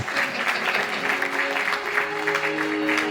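A church congregation claps together to acclaim the Lord, a dense, steady wall of applause sustained throughout, with a held musical tone underneath.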